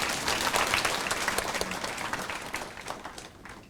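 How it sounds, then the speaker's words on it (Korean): A church congregation at a men's mission dedication service applauds the pastor, a dense burst of clapping that starts strong and gradually thins and fades out. "목사님께 감사의 박수 드리겠습니다."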